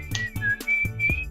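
Melodic whistling from a song, a bright clear tune in short phrases with brief gaps and low instrumental backing.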